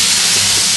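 Stock poured into a hot pan with garlic and red chilies for chicken, producing a loud, steady burst of steamy hissing, close and unbroken for under a second.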